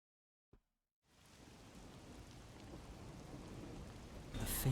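Steady rain falling in the video game Master Detective Archives: RAINCODE, starting after a brief silence and building into a dense, continuous hiss that grows slightly louder toward the end.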